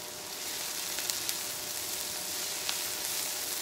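Minced garlic sizzles in a hot pan with a steady frying hiss, broken by a few faint clicks as it is stirred; no voices are heard.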